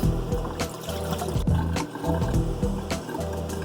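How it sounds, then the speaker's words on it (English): Rice being rinsed in water by hand, with sloshing, pouring and trickling in an irregular rhythm, close and fairly loud, with no talk. "this is 3 times I'm cleaning my rice"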